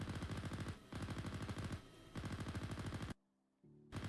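Bursts of automatic gunfire from a firefight in the Arma III military simulation game, rapid repeated shots in several long volleys with short gaps and a brief silence near the end.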